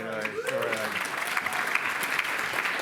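Audience applause at a youth-led movement conference, a dense sustained wash of clapping from a crowd that begins under a speaking voice and then carries on alone.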